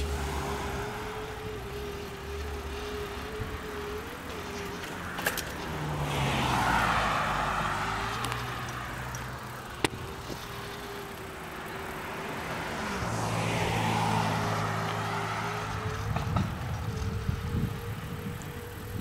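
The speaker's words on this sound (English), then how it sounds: "You might be able to hear the whine from the motor." Electric bike motor on an Xtreme 300 SLA bike gives a steady high whine that rises and falls in pitch with speed, alongside rolling road noise and passing traffic, with no talking.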